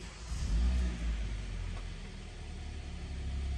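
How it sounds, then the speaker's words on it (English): A 2018 Hyundai Santa Fe Sport engine starts up with a low rumbling surge, then settles into a steady idle heard from inside the cabin. "let's go ahead and start this vehicle up for y'all"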